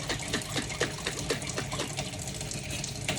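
Water sloshes and splashes rhythmically inside a glass pasta sauce jar being shaken, a quick run of close, wet bursts that fades into a steadier swish.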